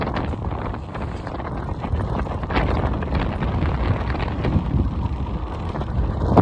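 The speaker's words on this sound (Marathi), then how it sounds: "मी आलेलो आहे वाऱ्यामध्ये" Strong wind buffets the microphone outdoors while a man walks to a shop, a constant low roaring rumble with no talking.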